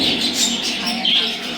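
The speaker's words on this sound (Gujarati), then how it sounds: "આ લવ બર્ડ છે" Continuous high-pitched chirping and twittering from small birds, busy and overlapping, fairly close throughout.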